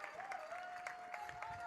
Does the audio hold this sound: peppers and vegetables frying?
no